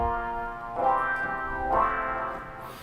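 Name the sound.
wah effect on guitar from the Easy Mix mixer preset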